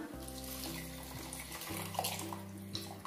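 Tamarind water pours steadily into a pan of sautéed onions and oil for kuzhambu, a continuous close splashing and trickling that runs for about three seconds without talk.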